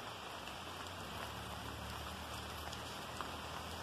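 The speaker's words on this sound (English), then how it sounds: "Not raining as hard as it was before." Rain falls steadily in a downpour, a dense, even hiss of drops with no pauses, fairly quiet and close, with no voices.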